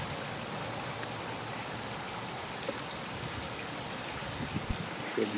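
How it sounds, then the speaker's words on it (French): Water from a small garden waterfall beside a swimming pool splashes and patters steadily, a dense even rushing close by with a few brighter drips near the end. "sur ma petite cascade"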